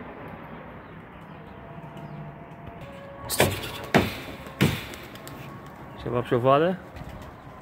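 Pigeons in a loft coo briefly near the end, after a few sharp knocks and rustles, while someone talks over the scene.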